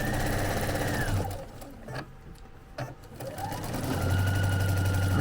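A sewing machine stitches down the center vein of a fabric leaf, whirring in steady runs that pause for a couple of seconds midway and then resume louder and continuous.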